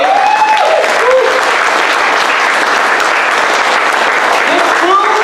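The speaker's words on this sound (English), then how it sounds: "give a big round of applause to Omar and his staff, right?" Audience members at a live stand-up comedy show in Garretson, South Dakota give a loud, sustained round of clapping that fills the room, with a voice briefly heard over it.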